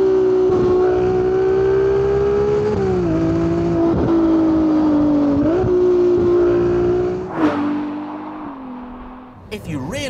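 Ferrari 296 GTB engine held at full throttle, a loud, steady high-pitched roar with wavering pitch and brief dips, then easing off and falling away near the end, with a short sharp noise at the close.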